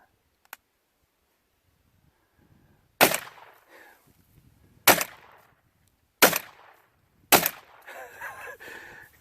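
Four sharp, loud pistol shots from a Taurus Spectrum at outdoor targets, spaced a second or two apart with brief echoing decay, after a quiet opening with one faint click.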